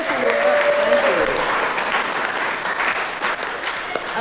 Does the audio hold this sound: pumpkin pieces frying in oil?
no